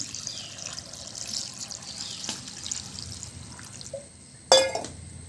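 Water poured into a pressure cooker holding jackfruit seeds, turmeric, salt and chopped bilimbi for a Kerala asthram curry, a soft steady trickle with a brief louder splash near the end.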